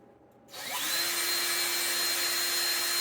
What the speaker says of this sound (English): we're going to have to drill this out